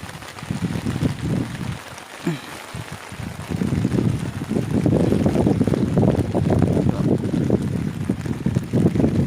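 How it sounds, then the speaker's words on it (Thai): Strong storm wind buffets and roars in gusts, with rain mixed in; a few brief voice-like sounds early, then a loud sustained rushing blast. "มาแล้วครับพายุมาแล้วครับ"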